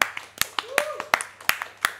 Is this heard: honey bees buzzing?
no